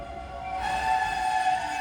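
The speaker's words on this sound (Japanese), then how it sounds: "電車がやってきました。" A Tobu electric train pulls into Tobu Utsunomiya station with a steady rising motor whine and rumbling wheels, heard from the platform at moderate volume.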